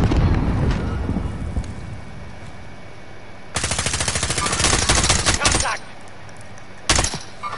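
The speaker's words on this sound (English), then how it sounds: "They're shooting at me!" Video-game gunfire in a PS4 shooter comes as long rapid bursts of automatic fire, close and loud, with a short final burst after a pause and quieter rumbling before the shooting starts.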